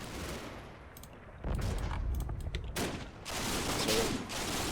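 Gunfire in the Combat Mission wargame among Normandy hedgerows, bursts of rapid machine-gun fire and scattered shots of varying distance, rising and falling in intensity over a noisy battlefield background.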